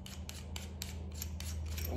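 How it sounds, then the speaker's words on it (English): Plastic turret caps unscrewed from a Vortex Copperhead 4-12x44 rifle scope, giving a quick run of small close scraping, ratcheting clicks over faint background hum. "So we'll take the turret caps off."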